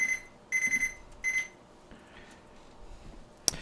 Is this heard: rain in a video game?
no